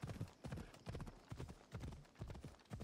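Steady horse hooves clip-clopping in a brisk, regular gait in Assassin's Creed Odyssey, close and prominent, with faint background game ambience.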